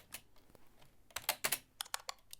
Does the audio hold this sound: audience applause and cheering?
no